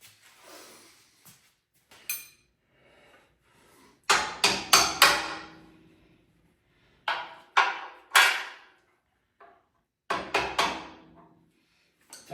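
Hammer blows tap bolts out of the steering pinion arms on a 1970 Monte Carlo, sharp metallic strikes in irregular bursts of two to four hits, close and loud, separated by short silences.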